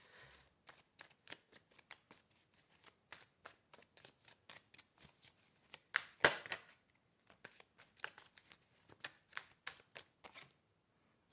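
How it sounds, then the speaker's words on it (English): A deck of tarot cards is shuffled by hand, soft rapid riffles and taps in a steady sequence with one sharper snap midway, quiet and close with no speech. "Let's pull a couple of cards on the false person"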